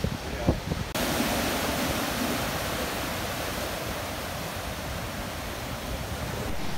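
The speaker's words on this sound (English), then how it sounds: "Waves are big and rough." Big, rough monsoon sea waves break at Gokarna, India, producing a loud, continuous roar of surf and churning water that fills the whole clip, with a brief softer moment at the start.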